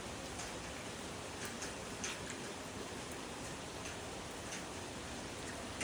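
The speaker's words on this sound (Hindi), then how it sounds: "पूरी बारिश ही बारिश हो रही है।" Heavy rain pours steadily near Bhimtal lake, a constant dense hiss of drops with occasional louder ticks and patters on nearby surfaces, no voices.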